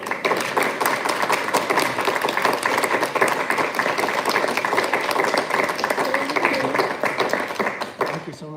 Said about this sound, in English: just a round of applause for Jane and Peter Gorlow here